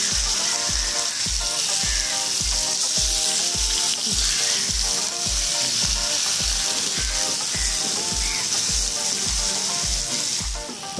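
Fish frying in coconut oil in a pan, a steady bright sizzle running throughout beneath loud background music with a regular thumping beat.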